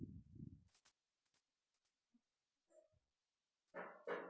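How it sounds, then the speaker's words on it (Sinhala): A dog in the video game Minecraft Bedrock Edition giving a few short, faint barks and whimpers spread out between near silence, with some louder bursts at the start and end. "අපි අතන ඉන්න බල්ලා බලමු"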